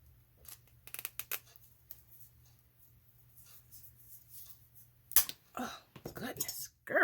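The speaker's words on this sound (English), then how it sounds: "Thicker scissors here." Thick craft scissors cut through mixed-media materials for a canvas Christmas scene, giving a few crisp snips and rustling crunches, close and fairly quiet, with short pauses between them.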